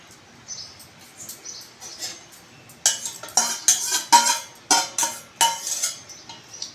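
Boiled cluster beans are tipped from a pot into a metal strainer plate in a home kitchen: a few soft taps, then a close run of sharp clattering knocks and scrapes of metal ware, with no talking.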